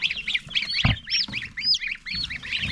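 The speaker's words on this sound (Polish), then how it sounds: "Teraz fajnie tutaj mają gęsi, są kaczuchy, takie śmieszne" Farmyard geese and ducks honk and quack in quick, overlapping bursts, close by and lively, with a few low thuds mixed in.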